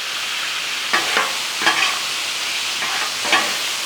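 Apple cider vinegar poured into sizzling bacon onion jam on a flat-top griddle, giving a steady frying hiss with several short bursts of louder sizzle as the liquid hits the hot surface and is stirred.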